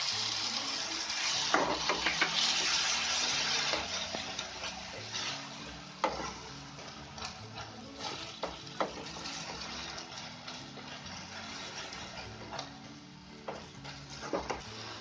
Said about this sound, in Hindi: हमारा मसाला पक रहा है